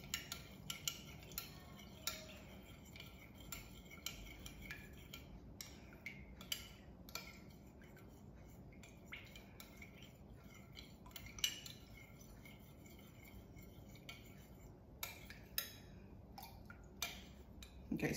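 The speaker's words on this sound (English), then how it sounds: "So I just stir until it's smooth." A metal spoon stirs honey into a hot tequila toddy with quick, light clinks against the cup that repeat steadily throughout, close by and fairly quiet.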